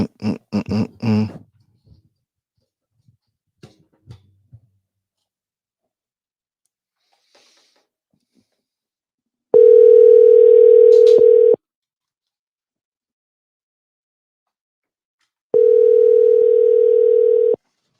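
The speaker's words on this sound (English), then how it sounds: "Hey, Robin, it's me calling." A phone rings on an outgoing call, heard as two long, loud, steady tones separated by a pause of silence, with scattered faint clicks and bumps before them.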